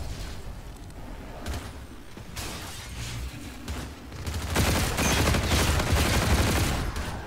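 Rapid gunfire bursts from the video game Call of Duty Infinite Warfare crackle throughout, building into a denser, louder barrage in the second half, with no talking.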